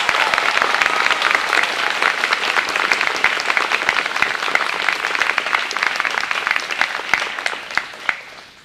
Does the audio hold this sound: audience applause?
yes